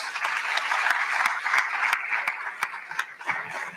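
Debate audience at Baltimore City Community College applauding the host campus at a gubernatorial town hall, steady crowd clapping with a few sharp individual claps standing out as it begins to fade.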